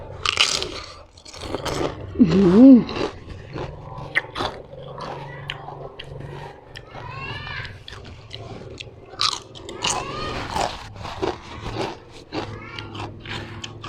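Crisp bites and loud crunching chews of fried spring rolls and crispy fried wontons repeat unevenly up close, with background voices and rustling between the crunches.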